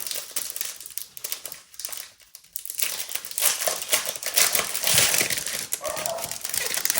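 Packaging around a Stampin' Up! hybrid embossing folder being opened, with continuous close crinkling and rustling of plastic and paper layers, a brief quieter gap, then louder crumpling and tearing.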